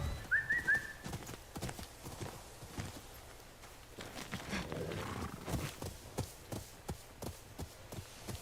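Horse hooves clip-clopping in the samurai video game Ghost of Yotei, a steady series of sharp hoof strikes that sounds moderately close, with a brief high chirp near the start.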